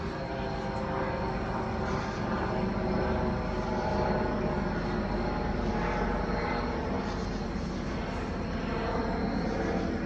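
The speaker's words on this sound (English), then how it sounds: "it's an airplane up here" A propeller airplane drones steadily overhead for the whole stretch, loud and continuous outdoors, with no clear speech over it.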